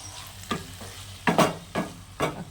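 Taro leaves (kochu shak) being stir-fried dry in a pan: a soft sizzle broken by four or five sharp scraping stirs of a spatula, close up, with no voices.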